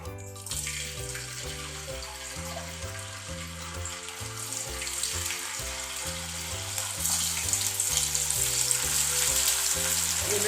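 Food sizzles steadily in hot oil during cooking of a paneer lunch dish, a loud continuous frying hiss that carries on under a repeating background music loop.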